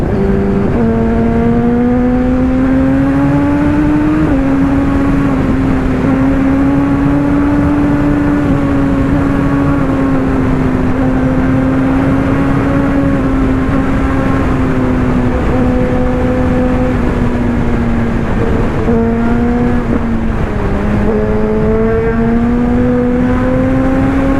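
A motorcycle engine drones steadily and loudly up close, its pitch rising and falling as it revs through gear changes while riding, with no voices.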